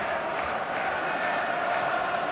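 A stadium crowd in an eFootball match before kickoff makes a dense, steady roar of massed voices with a faint chant-like murmur inside it. The wash of noise holds level and continuous throughout.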